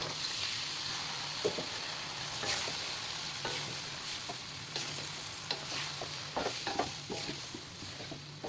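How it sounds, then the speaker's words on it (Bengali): Chopped bitter gourd frying with spices and coriander powder in a pan, stirred steadily with a spoon that scrapes and clicks over a constant sizzle, close and alone. "ভালো করে আমি নাইড়া নিই। এখন নাইড়া নিচ্ছি"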